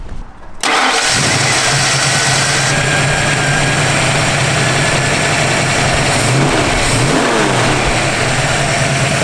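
A restored classic car, unused since 1992, cranks and catches, then its engine runs loud and steady close by, with a couple of revs rising and falling near the end.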